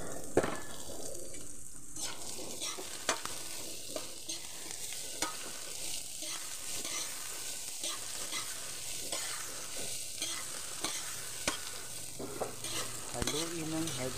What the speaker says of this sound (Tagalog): Haluin ng haluin, halukayin ng halukayin